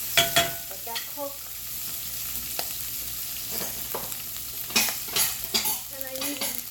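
Shrimp scampi sizzling steadily in a pan with a herb sprig added, broken by several sharp clinks and scrapes of a utensil against the pan, with no voices.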